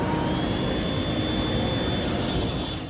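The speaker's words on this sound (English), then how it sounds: "That isn't the mouse revving its engines, it's spinning up a propeller." Small maze-solving micromouse robot at a competition, its suction fan spinning up into a steady, loud whirring hiss like a tiny jet or vacuum, heard alone.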